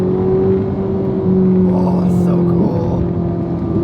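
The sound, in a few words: Ferrari 458 naturally aspirated V8 engine driving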